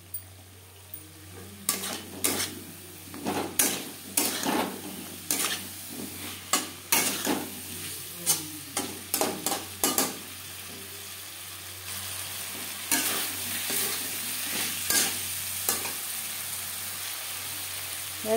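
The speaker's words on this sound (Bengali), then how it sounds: "3-4 মিনিট লো টু মিডিয়াম ফ্লেমে মশলা কষিয়ে নেওয়ার পর দিয়ে দেব সেদ্ধ করে রাখা আলু।" Boiled potatoes stirred into frying spice masala for a cabbage curry, with repeated sharp spatula scrapes and knocks in an irregular rhythm over a constant sizzle, close and fairly loud.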